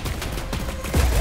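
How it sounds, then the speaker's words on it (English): Hunting rifle fire in the Fortnite video game: a few loud, sharp shots with booming tails, spaced irregularly across a little over a second, close and dominant. "Hunting rifle."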